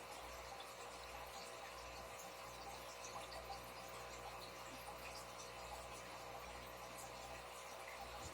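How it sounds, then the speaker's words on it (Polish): Water drains steadily from a home aquarium with young angelfish during a water change, giving an even, continuous rushing and trickling hiss with a low hum beneath, faint and uninterrupted. "spuszczę tylko jeszcze wodę"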